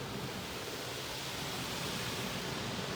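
A continuous, even roar of car wash dryer blower motors at a Mark VII Choice Wash XT, broadband and unchanging, with no voices or breaks.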